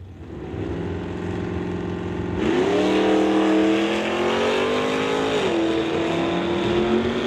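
Two drag race cars, a Chevelle and a Dart, launch and roar down the strip together, a loud sustained engine blare that rises in pitch, shifts, and keeps howling at full throttle.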